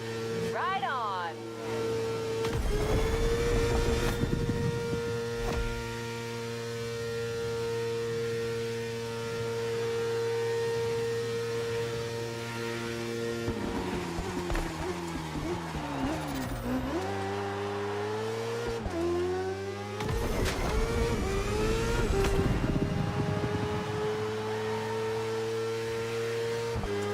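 A souped-up street-model motorcycle ridden in The Crew Motorfest, its engine holding a steady harmonic drone that climbs and dips as the revs change, with a brief tire squeal and a dense, loud mix throughout.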